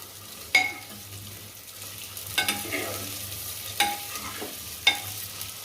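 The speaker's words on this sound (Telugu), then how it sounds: "పచ్చిమిరపకాయలు, టమోటాలు, ఇలా ఈ 3 కూడా కలిపి మనం వేసేసుకొని వీటిని ఒకసారి కలబెట్టుకుందాం" Green chillies and tomatoes sizzle in a cooking pot while a utensil stirs them, four distinct scraping clinks over a soft, steady frying hiss.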